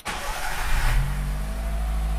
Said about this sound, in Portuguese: Vamos lá então virar a chave do Golita, moleque.